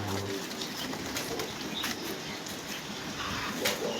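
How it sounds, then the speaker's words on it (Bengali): A single pigeon cooing nearby in soft, low repeated calls over a steady outdoor background hiss, with no talk. "তো এই জায়গা সব পায়রা নেই, হয়েছে একটা পায়রা।"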